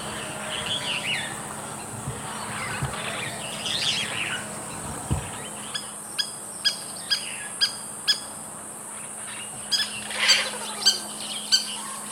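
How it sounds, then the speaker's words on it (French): Birds call throughout the Dolol classified forest, with varied chirps and squawks joined midway by a run of evenly spaced sharp notes, all fairly close against a steady insect-like hum. "Cette belle symphonie des oiseaux est possible grâce à l'entretien de"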